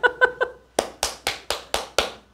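One person claps during a Korean dharma study group meeting. Three quick light claps come first, then six sharper, louder claps in an even, deliberate rhythm, close by and alone with no talk.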